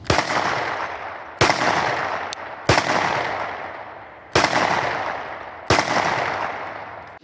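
A Smith & Wesson M&P 2.0 compact 9mm pistol with a 4-inch barrel fires five sharp, loud shots at irregular intervals outdoors, each crack followed by a long fading echo.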